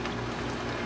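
Soy sauce poured from an uncapped bottle onto chicken fried rice with brown rice, a brief steady liquid pour close by, with no talking.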